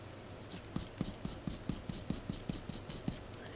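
A pencil rubs rhythmically across paper while shading a drawn face, making about a dozen evenly spaced soft scratchy strokes, close and quiet with no voices.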